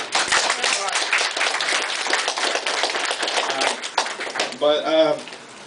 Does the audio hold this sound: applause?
yes